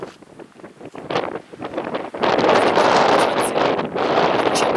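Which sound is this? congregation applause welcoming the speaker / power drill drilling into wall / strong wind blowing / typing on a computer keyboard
strong wind blowing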